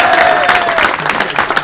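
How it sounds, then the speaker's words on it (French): A small crowd at a Sons of Middle-Earth tournament briefly applauds a player, a short, dense burst of clapping with a few voices mixed in. "On l'applaudit."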